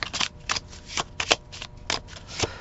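A Believe in Your Own Magic tarot deck is shuffled by hand nearby, giving a string of crisp, papery riffles and flicks in a steady rhythm of about eight bursts, with no talking.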